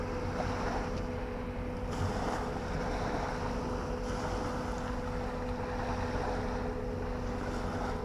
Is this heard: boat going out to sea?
yes